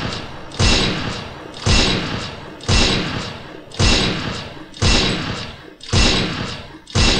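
Sniper rifle fire from the Free Fire video game, heavy thumping shots repeating in a steady rhythm about once per second, loud and close, with no talk.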